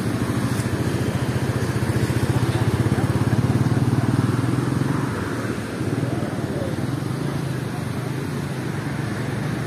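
Steady, close motorcycle engine running and idling with a racing exhaust, a continuous throbbing rumble that eases slightly midway.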